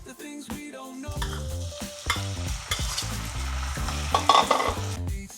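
Chopped vegetables with salt sautéing in a hot pan for sev tomato, a steady loud frying sizzle with stirring scrapes and clinks throughout, no talking.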